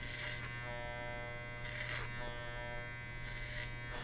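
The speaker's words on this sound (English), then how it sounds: "clipper over comb technique you got to get good at just by doing it over" Electric hair clippers buzz steadily in a clipper-over-comb haircut, with three brief bursts of cutting through hair over the comb, close and moderately quiet with no talk.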